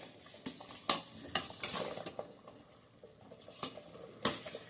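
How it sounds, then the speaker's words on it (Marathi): Homemade tomato ketchup cooks on high heat while a spoon stirs it constantly, producing repeated scraping strokes and sharp clicks against the pot over a low bubbling sizzle, close and fairly quiet, with no talking. "आता मात्र मी गॅस मोठा केलाय आणि सतत हलवत मी हे करणार आहे"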